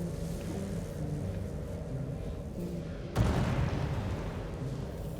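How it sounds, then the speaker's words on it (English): A sudden explosion in a video game demo bursts out about two-thirds of the way through, jumping above a steady low rumbling background and then fading into lingering noise. "Oh, that's an explosion."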